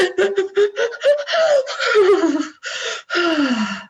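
A voice imitates the sharp, shuddering gasping breaths of crying: a series of quick catching inhales followed by longer voiced sobbing breaths, loud and close, with no background.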